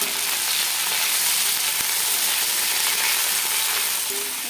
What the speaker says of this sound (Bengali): এবার ব্রকলিটাকে আমরা ফ্রাই করে নেব